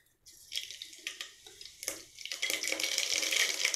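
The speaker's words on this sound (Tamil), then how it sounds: "கடுகு சீரகம் நல்லா பொரிஞ்சிருச்சுங்க" Mustard seeds spluttering in hot oil in a pan: sparse crackling pops that build into a denser, continuous sizzle, heard close up and fairly quiet, with no talk.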